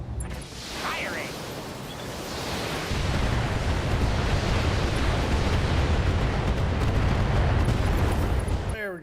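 Weapons fire and explosions in a war video game make a dense, continuous roar of booms and rumbling blasts, growing louder partway through and staying heavy to the end.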